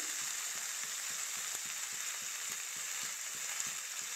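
Tomatoes and green chillies frying in a pan give a soft, steady hiss, with faint regular stirring taps beneath it, fairly quiet and without voices.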